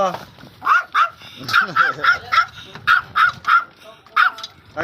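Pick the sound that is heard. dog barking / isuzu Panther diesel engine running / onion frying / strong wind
dog barking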